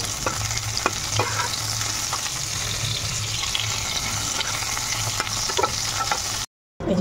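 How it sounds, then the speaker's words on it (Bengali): Potatoes frying in hot oil in a home kitchen, being prepared for a curry gravy: a steady close sizzle runs throughout with scattered stirring scrapes and clinks, cutting off briefly near the end. "ঝোলের জন্য আলুটা ভেজে নিচ্ছে।"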